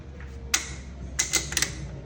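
An oil filler cap on a car engine is screwed down until it clicks shut: a single sharp click, then a quick cluster of three or four close, crisp ratchet clicks, with no talk.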